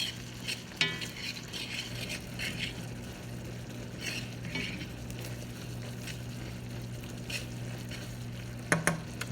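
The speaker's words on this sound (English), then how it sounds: "Frying that stuff good." Beans and bacon fry in a pan with a steady close sizzle and bubbling, broken by a few sharper crackles and spatters; nobody speaks.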